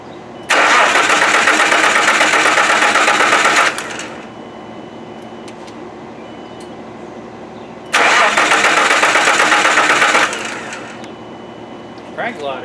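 A 1995 Nissan engine cranks over in two long bursts of steady, rhythmic churning, each several seconds long, separated by a quieter pause, loud and close with no voices.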